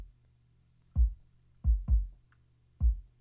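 Kick drum captured through a handmade sub kick microphone: four deep, isolated low thumps with a pair close together, quiet and boomy against near silence.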